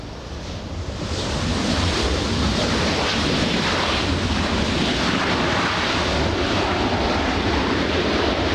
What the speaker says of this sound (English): The Delta A330 Neo. You'll see it in just a few seconds.